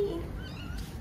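A cat on Rhodes in Greece gives a short, faint meow near the start, followed by quiet outdoor background ambience.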